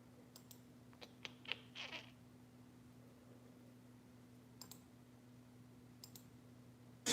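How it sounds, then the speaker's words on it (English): A handful of computer keyboard key presses, with sparse, quiet clicks in short bursts separated by pauses. They sit over a steady electrical hum, and a louder thump comes at the very end. "I think maybe I could type it in."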